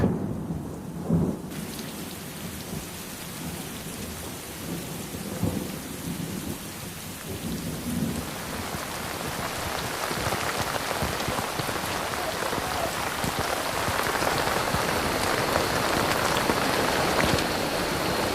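Heavy rain pours steadily with deep rumbles of thunder, the downpour growing louder and denser toward the end, no voices.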